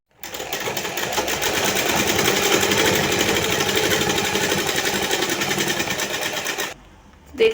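A sewing machine stitches the side seams of a small doll's skirt for a Kanha idol outfit, running in a loud, steady fast rhythm for several seconds before stopping abruptly, followed by a brief click.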